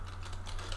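A computer keyboard being typed on, a rapid run of light key clicks, close and steady, over a low steady electrical hum.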